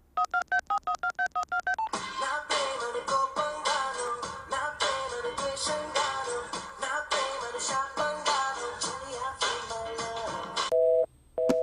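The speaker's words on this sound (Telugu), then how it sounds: "వాడికి ఫోన్ కలుపు" A mobile phone dialing out, with a short run of evenly spaced beeping tones followed by a long stretch of sustained, pulsing call audio and a final pair of tones, clear and close.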